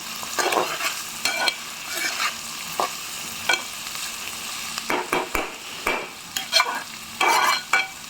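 Bitter gourd fry stirred in a hot pan, a close sizzle broken by repeated bursts of spatula scraping and tossing in an uneven rhythm, with no voices.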